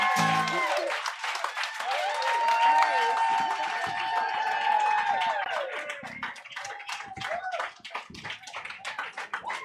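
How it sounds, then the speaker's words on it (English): Audience applause at a book launch in Los Angeles, strongest early then thinning out, mixed with cheers and a few voices talking over the clapping. "Another round of applause for the prickly pear, everyone."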